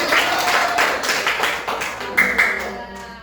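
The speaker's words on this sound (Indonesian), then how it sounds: "Tepuk tangan semuanya." Pupils in a classroom clap together in a short burst of rhythmic applause, fairly close and loud, over about three seconds.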